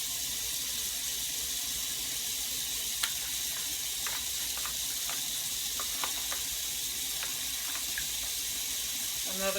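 Water pours steadily into a pan holding pork steak and potatoes, a continuous hissing rush with faint clicks and small splashes throughout, and no one talks over it.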